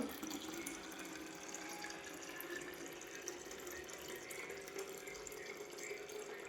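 Water running from a tap to fill a bottle, a soft continuous splashing flow heard at low level and steady throughout, with no voices.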